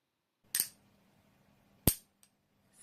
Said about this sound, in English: 2 pieces of lucite clinked together produce a thinner, higher pitch sound like this.